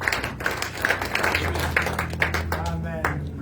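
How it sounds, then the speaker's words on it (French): Church congregation clapping their hands together at a Holy Communion service, a steady run of sharp claps over a continuous hum of background music and murmuring voices. "Let us clap our hands"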